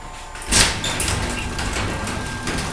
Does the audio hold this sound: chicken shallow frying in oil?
no